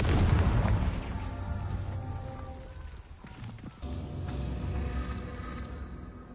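Explosions from the Confringo fire spell in Hogwarts Legacy: a loud blast at the start decaying into crackling debris, then further rumbling bursts, all fairly distant and without speech.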